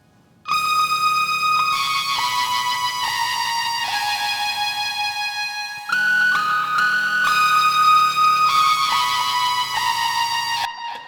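A Moog synthesizer line recorded through VHS tape with roar and stereo drive plays sustained, bright, buzzy chords that shift pitch midway, loud and continuous with no voices over it.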